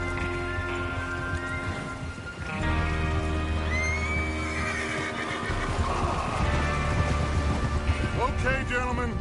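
In a Western video game, a horse whinnies several times over a busy soundscape of rain, hoofbeats and low rumbling, with scattered voices mixed underneath and a loud burst of neighing near the end.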